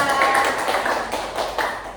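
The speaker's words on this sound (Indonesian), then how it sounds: "Tepuk tangan untuk kelompok 2." Students in a classroom give a group a round of applause, producing a dense, fairly loud patter of clapping that slowly fades over two seconds.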